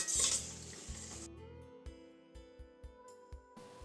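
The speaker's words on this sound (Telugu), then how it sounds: "ఇప్పుడు మనం దీన్ని కూడా బాగా కలుపుకొని ఫ్రై చేయాలి." Capsicum being stirred and fried in a pan, with a spatula clanking repeatedly against the metal and a brief sizzle at the start, followed by scraping and tapping.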